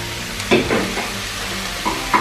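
Vegan bolognese ingredients sizzling in a pan, a soft steady sizzle broken by a few short scraping stirs, close and without talk.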